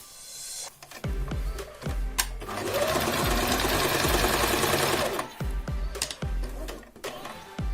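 A domestic sewing machine runs a line of stitching, opening with a few separate mechanical clunks, then a steady whirring run of rapid stitches for about three seconds, then more stop-start knocks, all close and without talk.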